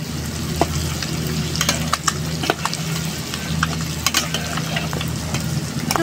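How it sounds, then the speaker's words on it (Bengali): Eggs sizzle and crackle in a hot frying pan with light salt while a spatula turns and stirs them, producing steady loud frying hiss punctuated by sharp scraping clicks. "এবারে আমি একটু ডিমগুলাকে উল্টা পুল্টা করে নাড়িয়ে নেব"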